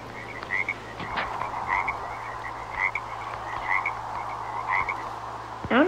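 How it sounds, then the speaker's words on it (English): Frogs croak in the Minecraft video game, a run of repeated rhythmic croaks at moderate volume over a low steady ambient hum, with no speech. "Frogs."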